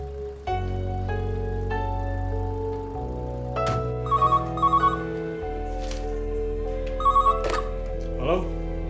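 A telephone rings in short repeated trilling bursts, several rings spaced apart over a musical background, with people talking around it.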